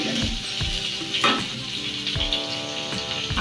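Papaya, potato and onion fry lightly in oil in a pan for a Bengali chicken curry, a close, steady sizzle with periodic stirring strokes and no talk.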